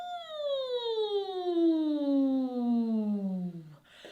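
A singer's voice imitates a siren during a vocal warm-up, one long smooth tone gliding steadily downward from high to low over about four seconds, clear and close.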